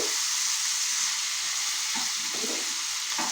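Vegetable curry made with home-grown organic vegetables fries loudly in a pan, a constant hissing sizzle, while a spoon scrapes and stirs a few times.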